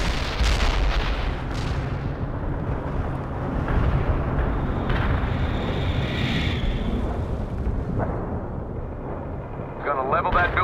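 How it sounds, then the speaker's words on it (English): Heavy artillery barrages in the Soviet campaign of the strategy game World in Conflict, loud continuous booming and rumbling blasts layered with battlefield noise and radio voices throughout. "Launching heavy ordnance. We are ready to rumble, sir. Yes, sir. Artillery's ready."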